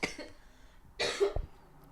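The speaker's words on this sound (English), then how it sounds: "A little bit of that cough is still there." A person coughs twice, close to the microphone, with two short harsh bursts separated by a pause, in an otherwise quiet room.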